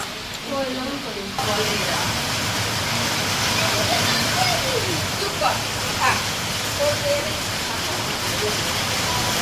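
Heavy rain pours down outside in a steady, dense hiss that fills the whole stretch, with a few faint voices and household sounds underneath.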